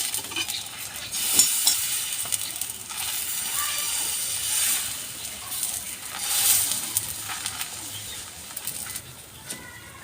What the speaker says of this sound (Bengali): ময়দার গোলাটা এবার দেবো আমি এবার তালপাটাটা দিয়ে টেনে দেবো